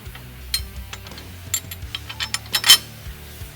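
A bolt is fitted through a bracket on a Can-Am Defender shock, giving a series of sharp metallic clicks and ratcheting taps at close range, irregular and fairly soft, with no talking.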